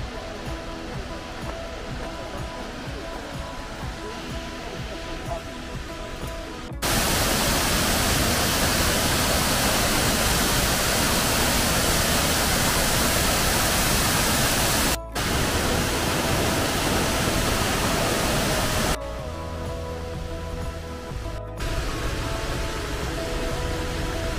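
The lower Gregorčič waterfall near Kobarid, a loud, steady roar of rushing water that swells to full force in the middle and eases back to a quieter wash at the start and end.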